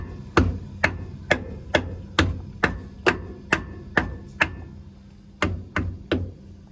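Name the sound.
hammer tapping truck air dryer purge valve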